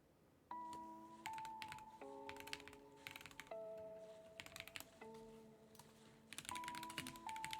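Keys clacking on a computer keyboard in a home gaming setup, a steady run of sharp, close clicks in uneven bursts with short pauses, with a faint sustained chime-like tone underneath and no talking.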